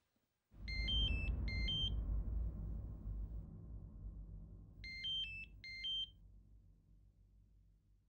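A mobile phone rings in a French-dubbed TV drama, two short bursts of electronic beeping tones, a pause, then two more, over a low background rumble.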